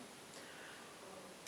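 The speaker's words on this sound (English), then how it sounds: "Now I'm going to release the shutter, wind, returning the lever with my thumb" A Pentacon Six medium-format camera fires a sharp, loud shutter release click at the very end, following a quiet stretch where the film wind lever is worked softly.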